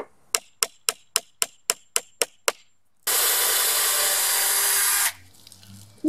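A row of sharp clicks is followed by a power drill whirring steadily into wood of a hive feeder for about two seconds, close and loud, then stopping.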